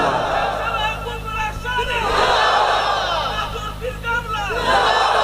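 A large crowd shouts in loud unison in response to a takbir call at an Islamic gathering, voices swelling and falling in repeated waves.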